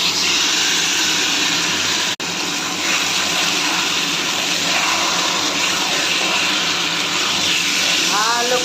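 Chicken pieces coated in ginger paste fry in hot oil for a Bengali country-chicken curry, giving a loud, continuous sizzle with one brief sharp knock partway through.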